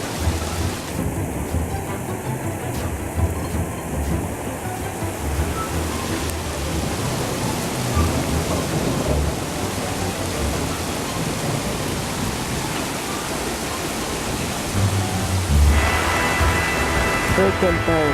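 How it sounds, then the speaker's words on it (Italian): A spring hailstorm in Quartu Sant'Elena, Cagliari, brings a dense, steady roar of hail and rain hammering surfaces, with rumbling thunder building and rolling across the whole stretch, loud and close. "Qui c'è una grandinata qui a Quarto Sant'Elena di provincia di Cagliari"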